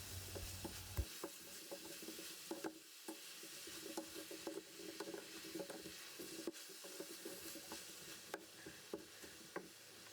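Salted leeks being stirred in a pan, a faint steady sizzle with scattered small clicks and scrapes of the utensil, close, without talk.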